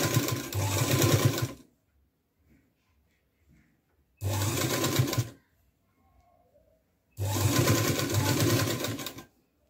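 A sewing machine stitches the flared skirt onto a party-wear frock bodice in three separate runs of rapid, even whirring, each a second or so long, with quiet pauses and faint handling noises between them.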